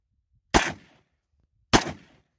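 Two loud single shots from a WASR 10/63 AK-47 rifle, about a second apart, each a sharp crack with a short decaying tail, outdoors and close, with no talking.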